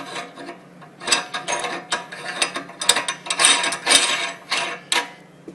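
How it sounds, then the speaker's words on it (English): A locking ring is screwed onto a LEM #8 meat grinder, giving close, loud bursts of ratcheting, grinding metal-on-metal turns in uneven strokes, with short pauses between twists. "Finally, put on your locking ring."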